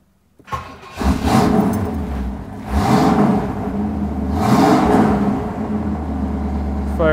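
A 1969 Pontiac Firebird's engine cranks and catches at about one second, then settles into a loud, steady rumbling idle with a couple of rising revs along the way.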